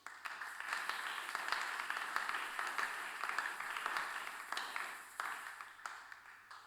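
A church congregation applauding during a French-language worship service, steady sustained clapping with rhythmic bursts throughout, moderately distant.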